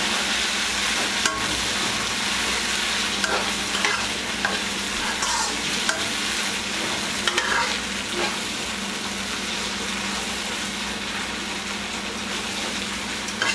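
Tomatoes being stirred in a hot frying pan while cooking eggplant bharta: a steady, close sizzle with scraping and stirring noise throughout, plus a few faint knocks, and no talking.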